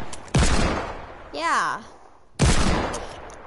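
Loud, harsh bursts of gunfire from an online multiplayer video game sound twice, separated by a rising and falling whistle-like tone, with a brief spoken word in between.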